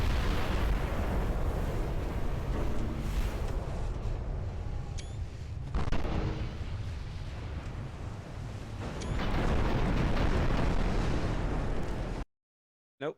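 A flash fire explosion aboard a battle cruiser in the naval warfare game Ultimate Admiral Dreadnoughts: a dense, continuous rumble of booming blasts and rolling detonations that swells twice, then cuts to silence.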